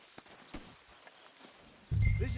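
Horse hooves from Red Dead Redemption 2 tap in a soft, sparse clip-clop, then a sudden loud, sustained burst from the horse closes the moment.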